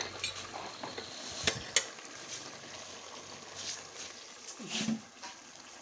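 Fish fries in a pan with a soft, continuous sizzle, broken by occasional utensil scrapes and knocks from stirring, heard close with faint background noise.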